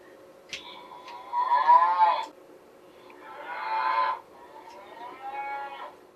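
Hereford cattle at the Ottawa Exhibition moo three times in long, drawn-out calls. The calls are fairly loud and alone over a faint steady background hum.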